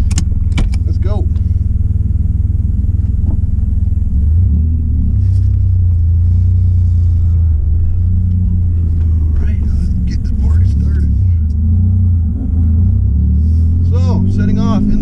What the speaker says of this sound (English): Setting off in the V6 Firebird.